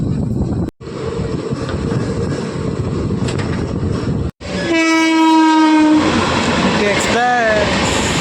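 A Ballari-Hosapete DEMU train rolls past near a station with a loud, steady rumble, then sounds a long sustained horn blast followed by a shorter wavering horn call close by.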